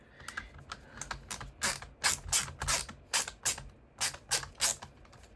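Screws being undone on a phone during a teardown, heard as a close, quiet series of rapid clicking, ratchet-like ticks in short bursts with small pauses between them.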